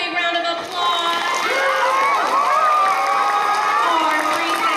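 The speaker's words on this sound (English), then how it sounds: "Give them a big round of applause." Children at a school event cheer and shout together in a loud, sustained burst, excited voices overlapping throughout with a little clapping mixed in.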